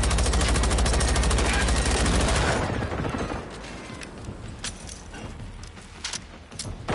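Rapid automatic gunfire from a Reaper robot in Generation Zero rattles loudly for about two and a half seconds, then gives way to scattered sharp impacts and mechanical clanks at lower level.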